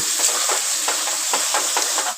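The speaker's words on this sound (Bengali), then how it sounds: "ভালো করে মশলাটা কষিয়ে নেব" Spices are stir-fried in a pan for a vegetarian stuffed pointed gourd dish, a constant bright sizzle broken by rhythmic scraping stirs about every quarter second, close and without talk.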